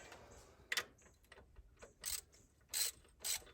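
A ratchet wrench loosens a 7/16 nut on a 1983 Ford F250, giving short bursts of quick ratcheting clicks spaced irregularly, close and fairly quiet, with no talking.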